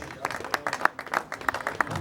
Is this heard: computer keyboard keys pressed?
no